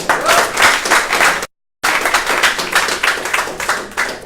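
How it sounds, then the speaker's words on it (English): An audience breaks into loud, steady applause, many hands clapping together, with a brief cut of silence midway before the clapping resumes just as strongly. "Can we have a good clap on that thing?"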